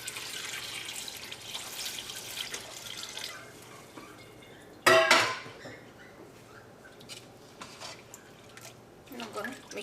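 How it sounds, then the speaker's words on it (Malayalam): Water is poured into a pot of Kerala sambar with vegetable pieces, a short splashing burst amid faint kitchen clatter and drips, with light background noise before and after. "നമുക്ക് ആവശ്യത്തിന് കഷ്ണങ്ങൾ വേവാൻ ആവശ്യമുള്ള വെള്ളം ചേർക്കാം."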